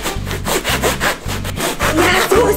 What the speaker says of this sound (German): So ein iPhone muss man doch auf sägen.